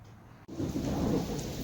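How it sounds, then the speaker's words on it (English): After a brief moment of quiet, a sudden low rumble of thunder rolls in with steady rain hissing beneath it. "it's raining out there right now"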